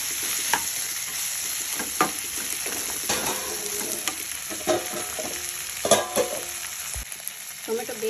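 Chopped tomato frying in a pan for a drumstick-leaf dal, with a steady background sizzle broken by repeated scraping strokes of a spoon stirring against the pan.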